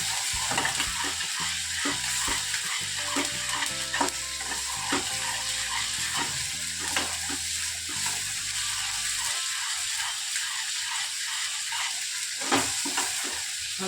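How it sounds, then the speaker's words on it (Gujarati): Onion and ginger fry in a pan for rajma curry with a loud, steady sizzle, broken by frequent scraping and clinking stirs of a spoon against the metal. "આ રીતે તમે ડુંગળી શેકશો એટલે કાચી નહીં લાગે"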